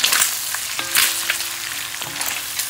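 Shrimp and chicken pieces sizzle and fry steadily in a pan for a Chinese chop suey, with a few louder crackling bursts and light stirring clatter over a constant hiss, close and alone.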